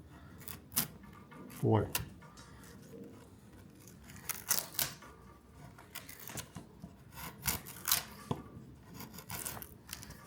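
A wood-handled chisel paring and cleaning the edges of walnut, with short, scattered scraping and shaving strokes at close range, one stronger rasp near the start, and a brief spoken word.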